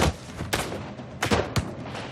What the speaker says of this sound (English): In a flurry of musket fire, a shot injures Wolfe.